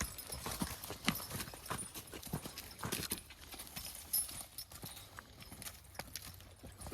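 A young Belgian draft horse's hooves clip-clop in a steady walking rhythm during line driving, close and fairly quiet, with no talk over them.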